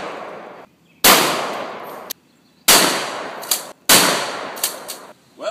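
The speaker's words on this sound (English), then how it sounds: "Take my shotgun, and I shoot the hell out of it." A 20-gauge shotgun blasts an acrylic painting three times, each shot a loud, sharp crack with a long ringing decay and short silent gaps between.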